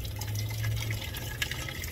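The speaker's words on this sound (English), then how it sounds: "I got a faucet out here" Steady rush of running water from an outdoor faucet at a fishing table, a continuous close wash of splashing flow with no talk.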